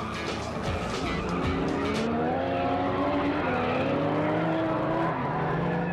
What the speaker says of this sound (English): NSX Type R dashes off, and the GT3 showing some power right from the start.